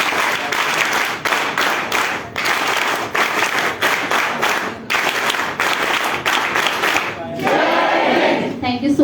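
A crowded audience at a college NSS awareness session on menstrual hygiene claps loudly in continuous waves with brief dips, and voices and cheering rise near the end.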